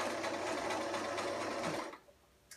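A sewing machine stitches fabric with a steady, fast mechanical whir that runs for nearly two seconds, then stops abruptly, leaving quiet room tone.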